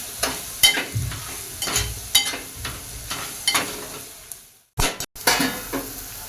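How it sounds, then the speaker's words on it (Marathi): Spices sautéing in a pan for Marwari-style khichdi, with repeated close stirring scrapes and soft sizzling in an uneven rhythm and a brief pause near the end. "आता आपले मसाले छान परतून झाले आहेत"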